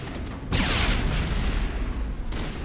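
Grenades go off in the video game Mass Effect, a sudden loud burst of blast and crackling debris that swells and then fades into a rumbling tail, with another sharp hit near the end.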